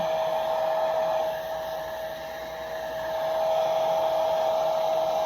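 Hair dryer blows a steady, even whir while drying a battery hen after a warm Epsom salt soak, close and continuous, its pitch holding level with a slight dip in loudness midway.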